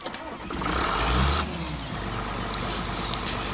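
A John Deere 7800 tractor with the 7.6-litre 466 engine cranks and starts in Farming Simulator 17, a loud broadband roar that settles into a steady, continuous idle rumble.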